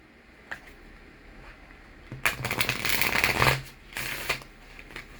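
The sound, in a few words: tarot cards being drawn from a deck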